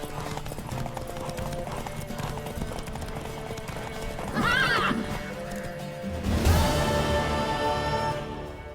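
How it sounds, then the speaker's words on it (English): Horse galloping in the video game The Witcher 3: Wild Hunt: steady hoofbeats under background music and ambience, with a loud whinny midway and a burst of louder hoof and crowd noise near the end. "Worthy of the best horse. The mare is yours."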